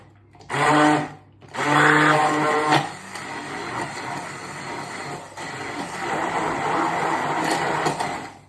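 Hand stick blender pulsing apples in a container, whirring in two short loud bursts before running in a steadier, lower-pitched grinding drone that continues to the end.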